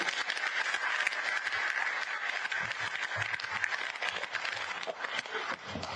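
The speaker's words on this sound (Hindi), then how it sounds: "अपने लिए तो ताली बजाते" Sustained applause from party workers at a political gathering in Uttarakhand, a dense, steady wash of clapping lasting throughout with a few louder claps near the end.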